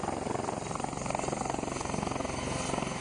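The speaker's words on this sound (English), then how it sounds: "This is the first helicopter coming in." A helicopter coming in to land at a field camp in Antarctica, its rotor chopping in a loud, steady, rapid pulse that fills the whole stretch, close by, with no other voices clear.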